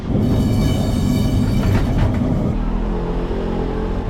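A loud, continuous rumble of Lisbon's number 28 tram rolling along rails at night, with steady mechanical drone and rattling throughout.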